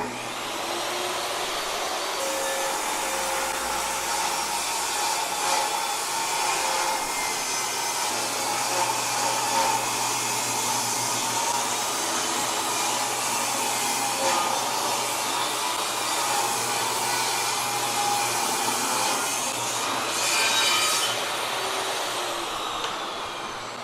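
A shop vacuum runs as dust collection while pine strips for a 10-foot trimaran mast are ripped on a saw, a steady loud whir with a faint tonal hum holding throughout, with no talk.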